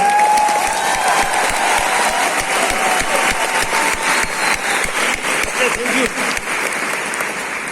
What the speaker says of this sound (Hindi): यदि ताली बजाना है तो दिल से बजाओ